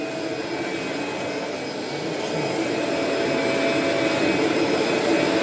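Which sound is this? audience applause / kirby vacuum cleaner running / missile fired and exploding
kirby vacuum cleaner running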